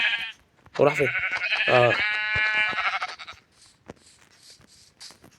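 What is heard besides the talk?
sheep bleating in the video game Minecraft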